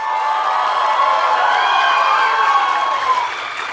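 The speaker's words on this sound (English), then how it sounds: "I want to hear a loud round of applause." A sustained, loud round of audience applause for women in uniform, dense clapping mixed with cheering that holds steady before tapering slightly at the end.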